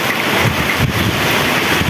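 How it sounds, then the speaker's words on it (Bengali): Wind blows steadily during light rain outdoors, a loud continuous rushing buffet with no pauses or talking over its short length. "সাথে মৃদু মৃদু হাওয়া বইছে"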